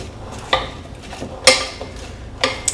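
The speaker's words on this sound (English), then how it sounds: "We're going to stir this so everything's coated." A spoon stirs a lamb meatball mixture seasoned with pepper and salt, giving soft scraping and a few light, irregular clinks against the bowl, quiet and close with no talking.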